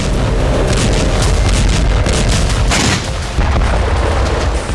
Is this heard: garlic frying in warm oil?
no